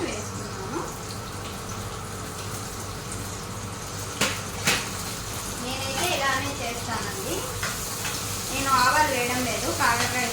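Onion and curry leaves frying in hot oil for a bitter gourd fry, a soft continuous sizzle with a couple of sharp clinks and some stirring, while someone talks over it.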